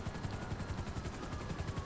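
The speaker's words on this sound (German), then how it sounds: "Der Hubschrauber." Helicopter in GTA V Online, a steady throbbing rotor chop with fast rhythmic pulses and a dense engine roar that never lets up, fairly loud and without talk.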